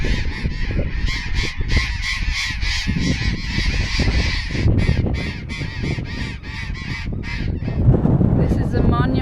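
A flock of parrots flying past near the coast in Argentina, some perched on power lines, gives loud, harsh, honking squawks in rapid overlapping bursts close by, fading briefly before further calls, with some faint talking underneath.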